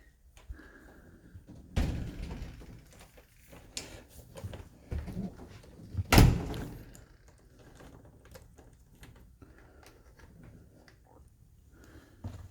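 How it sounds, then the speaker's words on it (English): A door thuds shut with a sharp bang, followed by scattered clicks and rattles as it is locked; no talking. "Lock this door back up."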